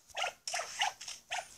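A pet dog in a video game gives a few short barks and yips in quick succession, near and clear with small gaps between them.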